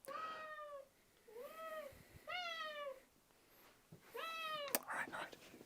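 A cat meows right up against the microphone, four drawn-out, close, fairly loud meows in a row with short pauses between them, and a soft human voice murmuring faintly around them.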